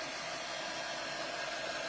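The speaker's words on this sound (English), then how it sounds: "You can use a hair dryer or you can use a quick dry tool." A quick-dry heat tool blowing over chalk paste on a craft stencil, a steady airy whoosh with no variation, faint and alone.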